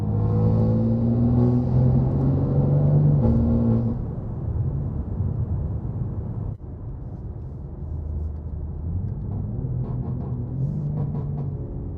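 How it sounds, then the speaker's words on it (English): A BMW M3 Competition engine runs loud and close with a deep droning tone, dropping in pitch and blipping through downshifts before settling into a steady rumble. "It's pretty aggressive on the downshifts actually,"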